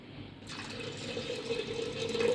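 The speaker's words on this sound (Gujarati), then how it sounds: "આ જો મેં એમાં ગરમ પાણી નાખ્યું" Hot water is poured into a pot for boiling, a steady splashing stream whose tone rises slightly as it fills, growing a bit louder toward the end.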